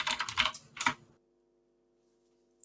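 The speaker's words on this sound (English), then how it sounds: "That was a loud keyboard, Mundy." A loud mechanical computer keyboard clatters in rapid bursts of keystrokes for about a second, close and clear, then stops, leaving quiet with a faint steady hum behind.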